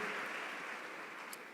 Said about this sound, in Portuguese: E a igreja pode glorificar a Deus, aplaudindo ao Senhor e sentando.